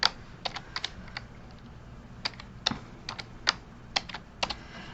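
Bursts of typing on a computer keyboard, quick clusters of close, crisp key clicks separated by short pauses, with no talk.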